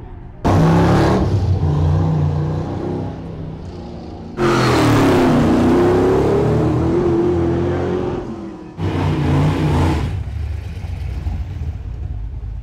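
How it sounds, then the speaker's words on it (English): Hill climb racing cars roar past in three loud bursts, each engine swelling up close and then fading, with quieter rumbling in the gaps between. "So if you can hear the cars in the background."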